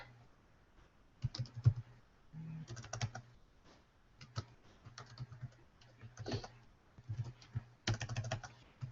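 Irregular bursts of key presses on a computer keyboard as a blog name is typed, close and fairly quiet, with short pauses between clusters of clicks.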